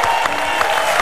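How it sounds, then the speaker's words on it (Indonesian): A studio audience applauding on a TV game show, a brief dense burst of many hands clapping together, loud and close, filling the moment. "boleh tepuk tangan dong."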